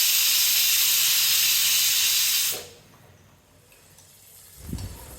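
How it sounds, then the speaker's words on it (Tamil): Pressure cooker whistle releasing steam while cooking pumpkin and channa dal: a loud, steady hiss for about two and a half seconds, then it cuts off to quiet, with a brief low thump near the end. "குக்கரில் ஒரே ஒரு விசில் வச்சா போதும்."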